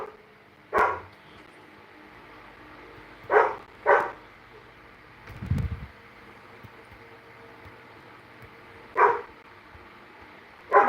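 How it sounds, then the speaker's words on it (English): A single dog barks indoors in five or six sharp, isolated bursts spaced a few seconds apart, fairly close, with a low thump between them and quiet room noise in the background. "My dog is barking"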